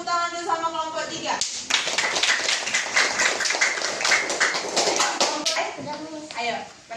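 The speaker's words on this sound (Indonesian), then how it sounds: "Beri tepuk tangan dulu sama kelompok 3." Classroom applause from a group of schoolchildren, steady clapping lasting several seconds with children's voices talking and calling out over it, a teacher's voice before and after.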